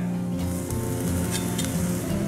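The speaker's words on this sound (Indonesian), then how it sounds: "Ini saya tumis duluan bawang bombaynya." Onion and garlic sauté in a hot pan, a loud, steady, close sizzle broken by scraping as the mixture is stirred.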